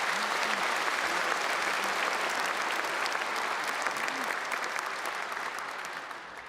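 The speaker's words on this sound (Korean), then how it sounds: "여러분 다시 한번 큰 박수 부탁드리겠습니다" A large audience at a Liberation Day ceremony applauds a 91-year-old independence activist after her song. Sustained, dense clapping holds steady with a faint voice briefly underneath, then slowly fades toward the end.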